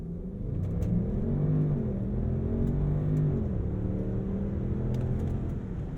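A 2022 Range Rover V8 roars steadily under a hard launch from a brake-boosted start on a slight uphill, a loud, continuous low engine rumble that climbs in pitch through the gears, heard from inside the cabin.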